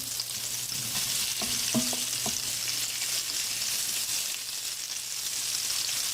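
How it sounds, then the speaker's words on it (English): Onions frying in a pan after turtle meat has been browned and removed, a steady even sizzle close by with a few brief utensil clinks early on, no talking. "let's go ahead and put the onions in"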